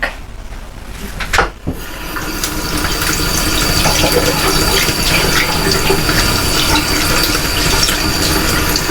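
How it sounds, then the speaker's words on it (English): Tap water gushing steadily into a sink as hands are washed, a loud, close, continuous rush after a brief splashy start, with no talking. "I'll just wash my hands off because sticky and yucky already"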